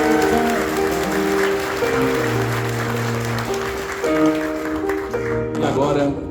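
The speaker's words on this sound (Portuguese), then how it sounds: "Eu quero palmas, pessoal." Wedding guests applaud together in a steady wash of clapping that runs under sustained music tones and some talking voices, tapering near the end.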